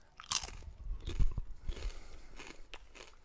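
Vegan rice crackers being bitten and chewed close up, a few crisp crunches and softer crackling chews in irregular bursts.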